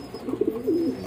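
Pigeons coo in a breeding loft where the eggs are nearly hatching, giving a short, soft, throaty rolling call close by, with faint background hiss and no talking.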